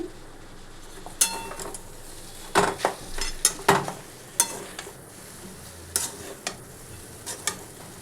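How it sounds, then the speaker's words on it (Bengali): Vegetable chowmein noodles being stirred in a pan, with scattered scraping and clinking of a utensil against metal over a faint background hiss and no talking. "এবার আমি এটাতে চাউটা ঢেলে দিলাম, দিয়ে এটা একটু নাড়িয়ে নিই।"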